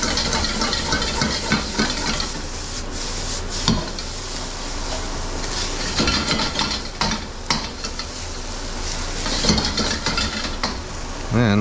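Scallions and rice stir-fry in a hot pan for bacon and egg fried rice, a constant loud sizzle and hiss broken by scraping, tossing clatters of a utensil against the pan.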